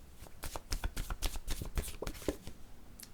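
Playing cards are handled and shuffled in a quick burst of crisp, papery riffling clicks, close up and fairly quiet.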